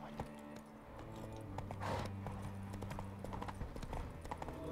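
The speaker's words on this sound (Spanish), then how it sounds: "vamos a llamar al caballo" A horse in The Witcher 3 clip-clops toward the camera, its hooves striking in a steady rhythm with a light jingle of tack, growing slightly louder as it arrives.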